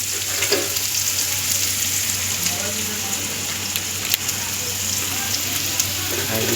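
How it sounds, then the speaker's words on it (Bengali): Onions frying in a home kitchen pan, a loud steady hiss like rain with a low hum underneath and occasional faint stirring, continuous throughout. "যে পেঁয়াজ ভাজতেছে এখন"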